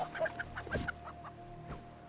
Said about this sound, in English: It's a battle chicken!